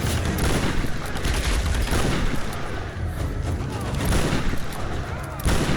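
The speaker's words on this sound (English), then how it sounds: "I'm shooting you with fire shotgun." Fire shotgun blasts in Tomb Raider (2013) land amid constant loud, dense gunfire and explosions in a frantic firefight, with the booming continuing throughout.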